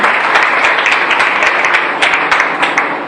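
A church congregation applauds together, a dense, loud spread of clapping that fills the hall evenly from start to end.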